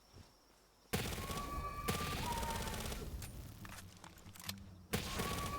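A submachine gun in Palworld fires continuous full-auto bursts at close range, loud and dense, stopping briefly between two long strings of rapid shots with faint game effects underneath.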